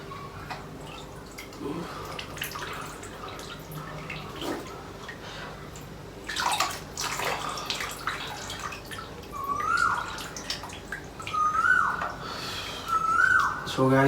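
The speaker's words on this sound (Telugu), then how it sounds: "నీళ్ళు వదులుతా ఉన్నాయి వచ్చి." Water runs steadily from a tap in a hot-weather outdoor setting, a continuous near splashing with a few drips, joined later by bird calls and occasional voices.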